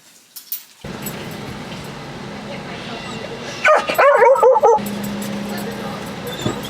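A groomed pet dog gives a short burst of yips and whimpering barks close by during an autumn outing, a second or so of clustered sounds in the middle of steady background noise.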